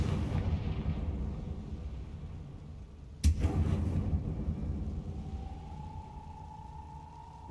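A Confringo blasting spell explodes in the video game Hogwarts Legacy: one sharp, loud blast midway through, ringing briefly over a steady low ambient rumble that slowly fades.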